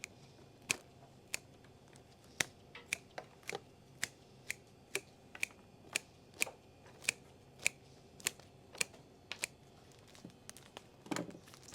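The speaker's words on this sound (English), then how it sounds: "we're gonna go ahead and give them another trim" Scissors trim flower stems for a bouquet in a steady run of about twenty crisp, evenly spaced snips, close and clear against a quiet background, with a rustle near the end.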